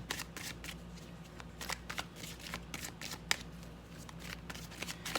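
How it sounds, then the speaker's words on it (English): Tarot cards are riffled and shuffled in quick, papery bursts, close up and continuous, with no talking. "let's get your deck and let's do a little shuffle"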